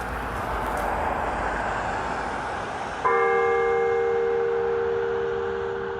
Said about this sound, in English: Church bells ringing Sunday afternoon in Lewiston, one to represent each life lost.